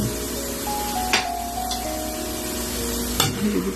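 Noodles with meatballs and mixed vegetables are stirred in a sizzling pan, a steady frying hiss punctuated by two sharp utensil clacks against the pan and light scraping.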